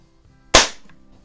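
A single sharp air gun shot cracks once in a garage, a short loud snap with a quick decay and otherwise quiet surroundings.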